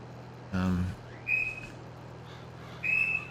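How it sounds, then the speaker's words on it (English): A pet bird whistles indoors in the background, giving two short rising whistles a second or so apart, after a brief low vocal sound, with a steady hum underneath. "Yeah, my bird's in the background."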